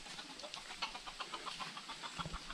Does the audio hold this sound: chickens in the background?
yes